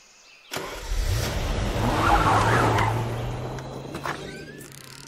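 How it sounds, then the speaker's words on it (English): A truck drives past with a steady low engine rumble that swells as it nears, holds loud through the middle, then slowly fades, with a brief higher squeal near the end. "where do you suppose that truck is going?"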